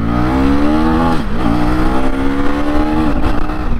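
A 2024 KTM Duke 250 motorcycle engine drones steadily while riding, with a smooth rising pitch, a brief dip around a gear change, then climbing again, loud and close with no talk.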